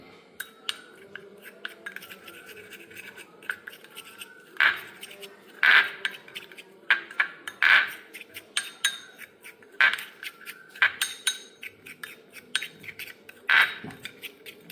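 A spoon mixes gram flour with shallot juice into a face pack in a small bowl, giving a string of sharp clinks and scrapes against the bowl, irregular and close, with quiet gaps between strokes.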